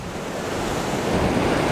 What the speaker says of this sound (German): An unserer Flagge sieht man den Wind.